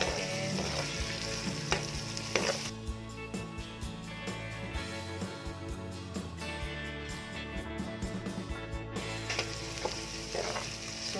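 Carrots stir-fried and mixed in a pan for kimchi fried rice, giving a continuous close sizzle with a quick run of spatula taps and scrapes, fairly loud, no one speaking.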